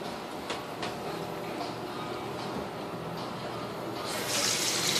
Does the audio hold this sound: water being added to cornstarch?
yes